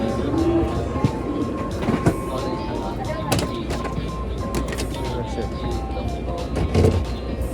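Inside a moving Shinkansen bullet train in Japan, a constant steady rumble and rushing hum fills the cabin with occasional soft clicks, while people talk nearby.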